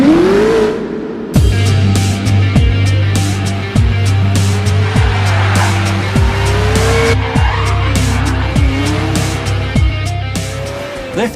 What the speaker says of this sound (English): world's first model car that performs with the same driving dynamics as a real racing car